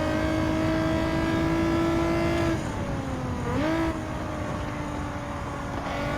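An Amuse NISMO 380RS Super Leggera race car in Gran Turismo 7 holds a steady high engine drone, then drops briefly and picks back up through a corner, loud and continuous with no talk.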